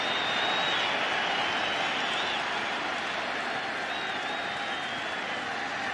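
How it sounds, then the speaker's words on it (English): A large crowd roars and applauds in a steady, dense wash at a 2009 World Series baseball game between the Philadelphia Phillies and New York Yankees, loud and continuous throughout. "Crowd trying to get back into it."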